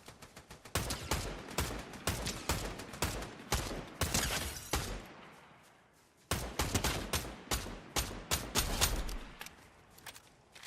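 Rapid bursts of SMG fire in Fortnite, loud and close, stuttering shots grouped in several volleys with a short quiet gap midway before another long stream of shots resumes.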